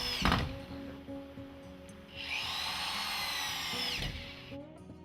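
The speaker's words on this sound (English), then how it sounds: "Secure it with 4 drywall screws" A power drill drives drywall screws through a drywall repair piece into wooden support boards, a close whining spin lasting about two seconds between thumps of handling.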